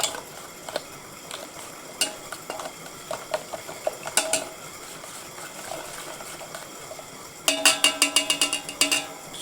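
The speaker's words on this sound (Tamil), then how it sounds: "முட்டையை கலக்கிட்டும் மக்களே" A utensil clicks and scrapes against a bowl as eggs are beaten for an omelette, with scattered taps giving way to a quick run of rapid beating strokes near the end, close by and without speech.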